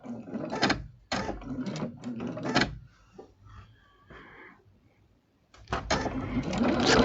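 A sewing machine stitches overlapped fabric leaves into place on a scrap French rose quilting project, running in three bursts: two back-to-back near the start, a quiet pause with small handling noises, then a final steady run.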